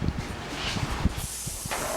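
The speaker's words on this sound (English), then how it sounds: "spray your entire meatloaf" Cooking spray sprayed onto a wiener meatloaf over a kitchen sink, heard as a close, steady aerosol hiss that starts and stops in short bursts, mixed with faint handling clicks and no talking.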